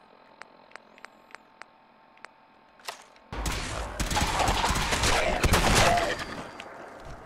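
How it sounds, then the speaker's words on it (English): Gunfire from a shotgun in Fallout 4, preceded by a few soft, evenly spaced mechanical ticks, then a loud blast that opens into a dense, sustained roar of combat noise. "I think this calls for a shotgun."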